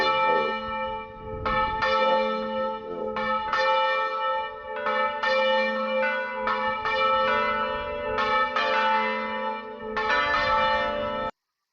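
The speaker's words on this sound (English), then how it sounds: "I need to find me a good bell." Church bell tolling steadily and loud, repeated metallic strikes with long ringing overtones that overlap throughout, no voices present.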